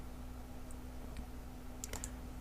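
A computer mouse double-clicks twice in quick succession, faint and close, over a steady low hum while editing in Adobe After Effects.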